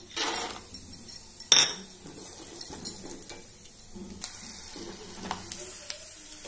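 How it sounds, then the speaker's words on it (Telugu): Peanuts fry in hot oil while a metal spoon stirs and scrapes the pan, giving sharp clanks over a soft, uneven sizzle that rises and falls, with no talking. "నెక్స్ట్ మిగతా పల్లీలు కూడా వేయించుకుందాము."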